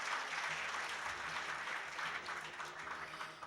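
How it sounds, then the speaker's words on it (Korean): Quiet, steady applause from an audience at an open-source software day awards ceremony, as guests are introduced, continuous and somewhat distant throughout. "따뜻한 박수 부탁드립니다."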